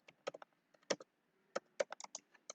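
Quiet typing on a computer keyboard at a command prompt, a series of close, crisp key clicks in uneven bursts with short pauses, alone without speech.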